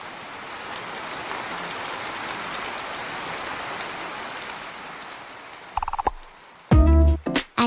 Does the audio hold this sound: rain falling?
yes